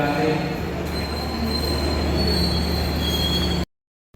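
Wheels of a Pasundan passenger train squeal steadily against the rails, a sustained metallic whine with high tonal screeches over a low rolling rumble, close and continuous before cutting off abruptly.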